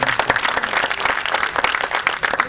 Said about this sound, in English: That is why it deserves a big round of applause